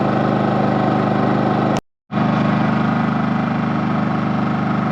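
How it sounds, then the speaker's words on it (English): A Champion 4500 watt inverter generator runs in eco mode, its engine humming at a steady, unchanging idle with a continuous low drone, briefly cut off by a short gap of silence. "the engine really hasn't sped up. It's still basically running in eco mode"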